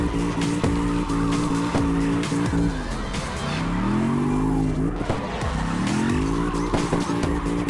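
Car engines in a video game (CarX) rev and roar while tires squeal in long sliding drift skids, loud and continuous, with pitch rising and falling.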